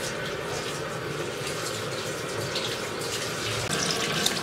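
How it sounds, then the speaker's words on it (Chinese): Tap water runs steadily over beef tripe being rinsed in a sink, a continuous close splashing gush with no talk. "再用清水冲一下"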